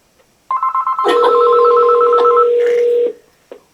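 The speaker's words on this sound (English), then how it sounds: "When I call the house phone from my cell phone, this is what happens." A landline house phone rings loud and close when called from a cell phone, giving a sustained electronic tone with a short chirp after the first sound, then a pause and a brief new burst.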